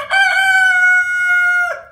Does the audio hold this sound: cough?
no